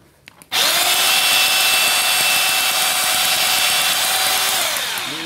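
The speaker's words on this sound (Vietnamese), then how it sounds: "Bởi vì bây giờ nó có tải rồi thì mình sẽ khoan trơn nhé" A concrete hammer drill, repaired after failing to rotate, runs in plain rotary drilling mode: a sudden start into a loud, steady, high whine that holds for about five seconds, with a faint click or two just before it.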